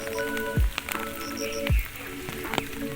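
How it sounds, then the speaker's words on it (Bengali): Rain patters onto an umbrella outdoors, a steady wet hiss broken by scattered heavier drop taps close overhead, with no talking. "ছাতার উপর জল পড়ার আওয়াজটা।"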